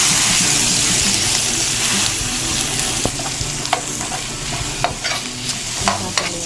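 Garlic and onion sautéing in a little oil for beef broccoli, a loud continuous hiss and sizzle that softens slightly, with sharp spatula taps and scrapes against the pan toward the end.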